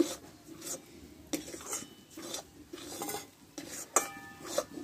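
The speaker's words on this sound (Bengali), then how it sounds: "আলুটা ভালোভাবে একটু কষতে থাকবো" A spoon scrapes and stirs a potato filling in a pan, with irregular close clinks and scrapes of metal on the pan over a faint sizzle and no talk.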